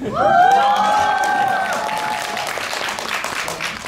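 A cinema audience at a post-screening talk with a film's director and actors cheers loudly with shouts and whoops over clapping, peaking early and then thinning into lighter applause.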